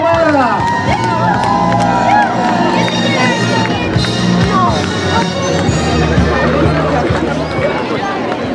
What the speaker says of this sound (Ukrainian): Ваші оплески, вітаємо мера!